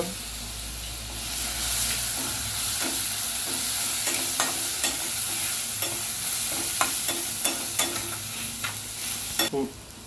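Ground spice paste for potato patties sizzles steadily in a pan over low heat, with a continuous frying hiss broken by sharp stirring clicks and spatters, close and fairly loud throughout.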